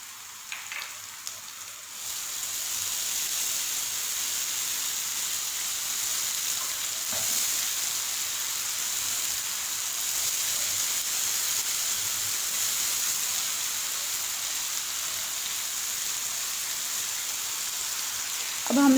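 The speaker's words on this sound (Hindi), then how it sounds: "अब हम लोग इसमें डालेंगे टमाटर, जो हम लोगों ने ग्राइंड कर लिए थे अच्छे से" Ground tomatoes hiss into a pan of frying mutton liver masala, giving a loud, steady sizzle close up that holds evenly with faint stirring scrapes and no talk.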